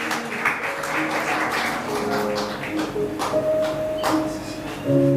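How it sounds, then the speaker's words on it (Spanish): A church congregation applauds during a Spanish-language service, steady clapping under sustained musical tones from an instrument, rising slightly louder at the end. "denle un aplauso al Rey de Gloria en esta mañana"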